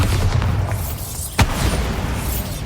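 A Bombarda spell explosion in the video game Hogwarts Legacy, a single sharp boom near the middle of the clip set against a dense, steady bed of game ambience and music.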